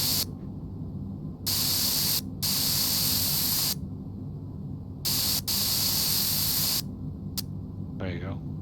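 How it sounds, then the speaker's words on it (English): Bursts of spray while parts are sprayed down in Offroad Mechanic Simulator, several loud hissing blasts lasting one to two seconds each, separated by short pauses over a steady low hum, ending with a brief bit of a voice. "We got to spray this up here."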